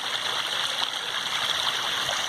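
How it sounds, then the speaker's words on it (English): Backyard pond waterfall spilling into a small stream, a steady, close rushing and splashing wash of water with faint gurgles, continuous and alone with no voices. "there's the waterfall at the top of the pond. You can see it's doing a waterfall thing."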